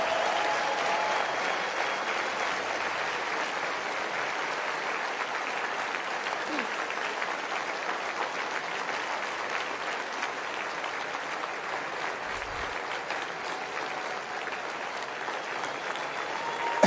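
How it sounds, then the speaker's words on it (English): Steady audience applause fills a CPAC conference hall, dense continuous clapping from a large crowd that holds an even level throughout with no words spoken. "give her a round of applause anyway."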